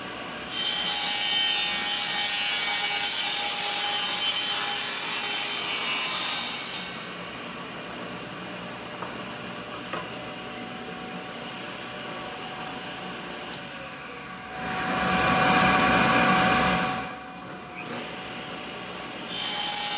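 A saw cuts plywood pieces to size in a workshop, loud rasping strokes for several seconds, a quieter stretch, then another burst of cutting near the end.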